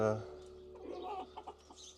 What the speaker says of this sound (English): We've got 8 chickens now.